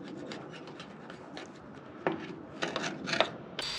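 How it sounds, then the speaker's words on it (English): Hand saw rasping through excess body filler in hard-to-reach gaps on a 1953 Kenworth Pacific bus during bodywork, a run of quiet scratchy strokes with a few louder ones near the end, no talk. "On these gaps, you can just saw away the excess."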